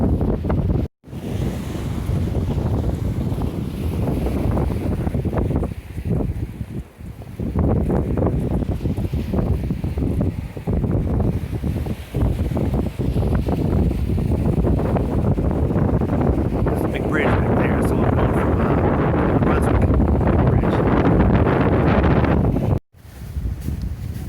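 Strong wind blowing outdoors on a coastal horseback ride on Jekyll Island, Georgia, a loud continuous roar buffeting the microphone, mixed with surf-like rushing, with no talking.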